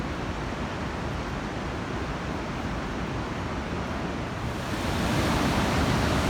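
The Coquihalla River rushes loudly through a narrow rocky section, a steady dense roar of water up close that swells a little toward the end, with no voices.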